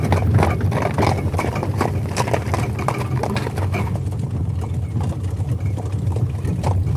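Horses pulling a carriage at a driving school trot along, their hoof beats clopping in a steady rhythm under a constant low rumble of wheels, close and fairly loud with no talking.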